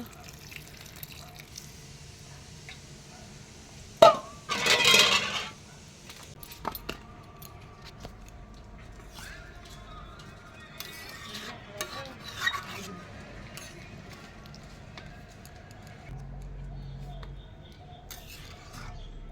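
Hot water is poured from a vessel into country chicken curry simmering on a clay stove, a short splashing gush amid faint clinks and kitchen noise, with a person talking quietly.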